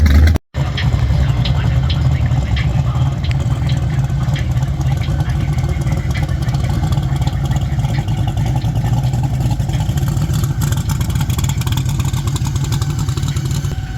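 Twin-turbo engine, newly installed in an OBS truck, runs steadily and loudly up close at a track test session. It holds a constant rumbling drone with little change in pitch and no clear revs, and voices can be heard over it.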